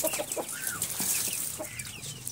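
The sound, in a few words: chicken clucking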